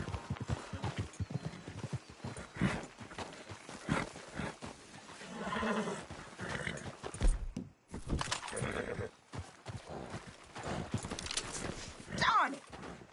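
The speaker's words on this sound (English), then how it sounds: "Damn horse acting up on me." A horse in the Red Dead Redemption 2 video game clops its hooves in uneven bursts and lets out a whinny, mixed with a person talking over the game.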